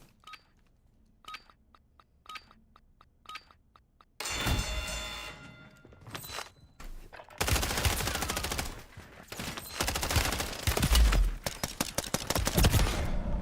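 Gunfire in Call of Duty Warzone: a few sparse, sharp single shots at first, then dense, loud automatic bursts and rapid fusillades that continue to the end.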